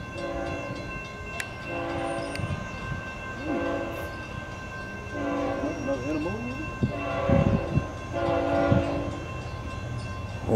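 A CSXT freight train with ET44AH, SD70MAC and ES44AH locomotives hauling empty ingredients cars sounds its horn in repeated long blasts over steady rolling rail rumble, loud and close throughout.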